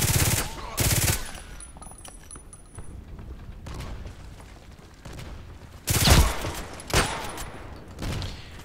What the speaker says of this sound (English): Do a grenade and shoot him with a Glock. First a grenade, then the Glock,